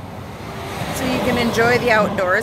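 Steady traffic on major Highway 52 roars in the background, a constant broadband rumble beneath someone talking close by outside a 2018 Winnebago 31BHDS RV.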